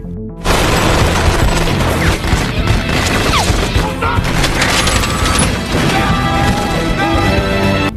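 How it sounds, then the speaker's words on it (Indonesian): Gunfire and crashing impacts in a prison shootout film scene, dense bursts of shots and smashes running loud and continuous, mixed with a busy action soundtrack. "pertukaran tersebut malah berujung baku tembak yang dimulai oleh salah satu napi"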